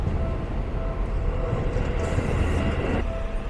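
A Seibu Shinjuku Line train rumbles past close by at a railway crossing in Tokyo, a low continuous roar of wheels on rails with a faint hiss rising partway through.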